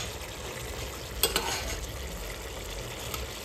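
Chicken pieces sauté uncovered with whole spices in a hot pan for Maggi-style chicken, a steady soft sizzle with a couple of brief louder crackles partway through.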